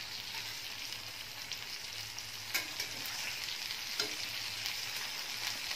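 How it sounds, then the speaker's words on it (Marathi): Datri fish fries in a pan over a low flame until crispy, giving a soft, steady sizzle with occasional faint clicks and pops, no voices. "छान कुरकुरीत होईपर्यंत तळून घ्यायची आहे"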